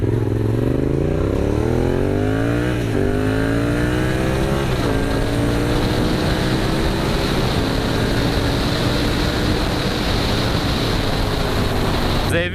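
A Yamaha MT-07 motorcycle engine revs and climbs through gears with rising whine, then holds a steady roar with wind rush, heard from the rider's position.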